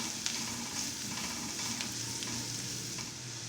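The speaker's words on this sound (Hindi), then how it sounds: "गाजर को मैंने हल्का सा पका लिया।" Carrots being lightly stir-fried in a pan, with other vegetables cooked before them, make a constant close sizzle and crackle with faint scraping, fairly loud and unbroken, with no speech.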